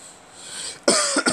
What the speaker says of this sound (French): ne vous inquiétez pas si je tousse beaucoup, c'est parce que j'ai avalé ma salive de travers